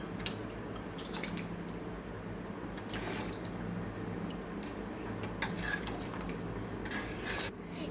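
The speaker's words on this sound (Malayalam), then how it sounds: "ഇനി ഈ കോൺഫ്ലവർ ഇതിനകത്തോട്ട് ഒഴിക്കണം" Cornflour slurry is poured into simmering chicken soup, giving soft close dripping, splashing and liquid squishing with light stirring, steady and quiet with no voices.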